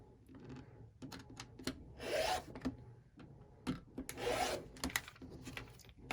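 A rotary cutter runs along a ruler through folded quilting fabric, making soft rasping strokes mixed with light taps and shuffles, close but quiet, with no talking.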